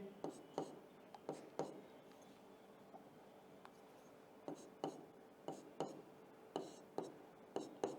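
A marker or chalk strokes across a board in short bursts, a few scratchy strokes, then a pause, then a quicker run of taps and strokes. Faint, close, no talk.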